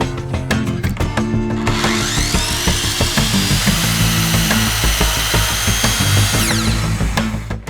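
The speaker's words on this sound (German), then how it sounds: "dafür benutzen wir die Handkreissäge" A handheld circular saw bites through wooden beams for a homemade power rack, cutting mitres: a loud, steady whining cut lasting several seconds after a few sharp knocks, close by with no talking.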